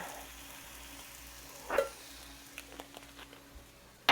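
Spices and crushed red pepper sizzle faintly in hot oil, a soft steady frying hiss broken by a couple of sharper pops or clinks of a utensil.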